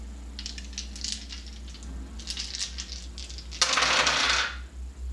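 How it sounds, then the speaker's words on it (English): Six dice are rolled in a tabletop board game, rattling in bursts and then spilling in a loud clatter near the end, close up with no talking. "So I'm actually going to roll 4 plus 1 is 6 total dice."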